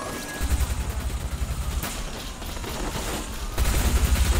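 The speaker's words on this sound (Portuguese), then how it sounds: "Os caras me atirando aqui." Enemy gunfire in Watch Dogs, a fast continuous burst of rapid shots that pulses loudly, dips briefly in the middle, then returns strong and close, with no talking.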